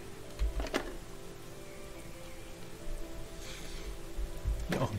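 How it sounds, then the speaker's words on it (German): Rain in Starbound with the Frackin Universe mod, a steady hiss of falling drops under a faint tonal hum, with a couple of sharp rattling bursts near the start and end. "Und es regnet."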